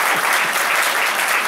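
An assembly at a general meeting claps for the president, a brief, even burst of many hands applauding close and loud.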